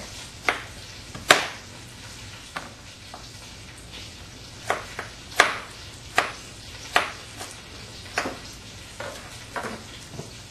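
Knife splitting vegetables down the center on a cutting board for a New England pot roast: about a dozen crisp, sharp chops at an uneven pace, close and distinct over a low background hum.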